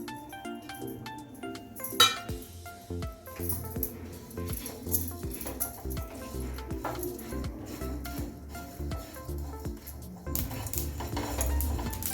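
Coriander seeds, sesame and cumin are dry-roasted in a pan, with repeated close metallic clinks and scrapes of a spoon against the pan scattered throughout.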